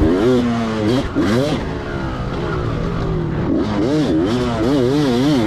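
Close, loud engine of a 2004 Kawasaki KX250 dirt bike at a dirt park, revving up and down in repeated waves as it is ridden, with no talk over it.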